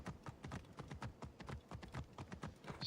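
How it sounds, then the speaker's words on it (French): A horse's hooves clip-clop at a quick, even gait inside a temple in the video game Assassin's Creed Origins. The hoofbeats are quiet but distinct and alone, with no speech. "Je suis à cheval dans le temple"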